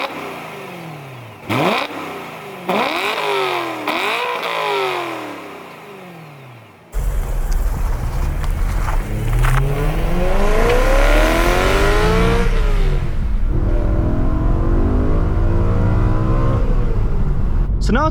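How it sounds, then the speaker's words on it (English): Stock exhaust on a BMW E92 M3 revving hard, first in a few sharp separate blips, then a sustained loud run of rising and falling revs close to the car. "let's actually show you guys what this guy sounds like stock"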